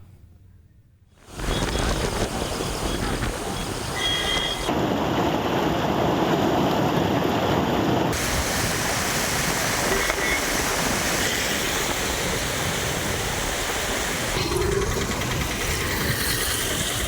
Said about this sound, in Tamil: ஆரணி கமண்டல நாகநதி ஆற்றில் வெள்ளப்பெருக்கு ஏற்பட்டு தண்ணீர் ஆர்ப்பரித்து